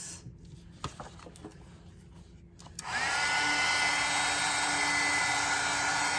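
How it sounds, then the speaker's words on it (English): A heat embossing tool blows and whirs steadily for about three seconds, melting embossing powder on a mixed media craft piece, after a short stretch of quiet handling sounds. "I'm gonna emboss, do the heat embossing now."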